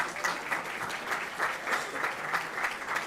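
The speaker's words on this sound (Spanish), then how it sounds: "Si quieren pueden aplaudir ahí entre medio" An auditorium audience at a talk honoring student athletes applauds steadily, moderately loud, with a faintly pulsing rhythm of clapping.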